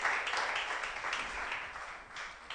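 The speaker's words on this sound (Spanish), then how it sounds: "Dale un aplauso a Cristo." A church congregation applauds together, a dense wash of clapping from many hands that fills the room steadily for the whole short stretch.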